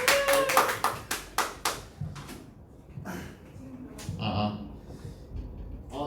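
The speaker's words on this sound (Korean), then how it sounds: "박수 치고 나가요." A small group of hands claps several times at a Korean education information session, sharp separate claps that thin out into room noise and murmuring.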